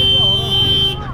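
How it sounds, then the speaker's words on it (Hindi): In busy market traffic, a vehicle horn sounds one sustained, loud, close buzzing tone that cuts off just before the end, with street noise beneath it. "अरे कितना हॉर्न दे भाई"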